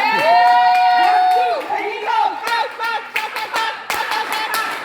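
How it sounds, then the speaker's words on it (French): Conference crowd at an Edmark product event in Canada cheering, with a loud sustained whoop up front followed by scattered sharp claps and shouts, close and energetic. "nous pouvons donner une acclamation à cette leader?"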